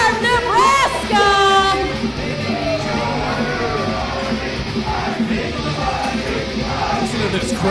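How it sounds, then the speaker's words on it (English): Wrestling crowd at an SLA Anarchy event in St. Louis yelling, whooping and cheering loudly throughout, a dense roar with sharp shouts rising early, while a ring announcer's voice is partly heard beneath. "Listen to this crowd."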